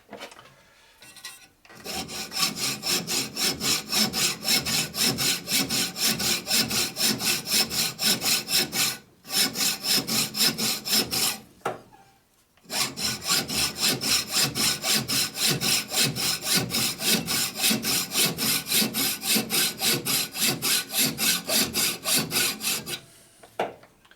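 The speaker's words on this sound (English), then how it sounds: "This is a sucky hacksaw blade." A hacksaw with a poor blade cuts metal on a part of a 1936-1948 Harley knucklehead springer bobber being converted to disc brakes, making fast, steady, rhythmic back-and-forth rasping strokes up close, broken by two brief pauses.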